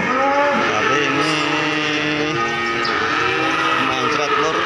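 A Simmental cross bull weighing 640 kg moos at a cattle market, a long, loud, close bellow with rich overtones that fills the whole stretch.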